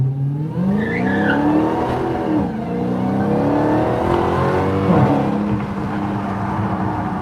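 A 2022 Dodge Challenger SRT Jailbreak engine roars close by as it accelerates, pitch climbing through paddle-shifted gear changes with a loud, growling exhaust and faint tire noise.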